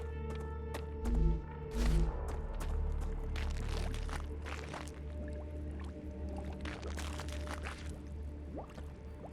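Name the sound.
moving through swampy ground in the video game StarRupture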